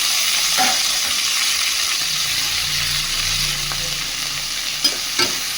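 Mustard flowers and green chilies fry in hot oil while a utensil stirs them, giving a continuous close sizzle with scraping stir sounds and a couple of sharp clinks near the end, no talk.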